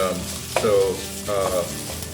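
Meat for a fettuccine Alfredo browns in a pan, with a steady sizzle and short scraping stirs, close and fairly loud throughout.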